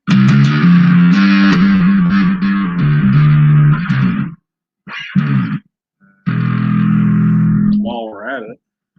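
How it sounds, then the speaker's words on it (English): A new bass guitar growls through a distortion effect, with sustained gritty notes, abrupt stops and short silences, then a wobbling, pitch-bent tail; loud and close with no talking. "Let's see what distortion will sound like on this piece."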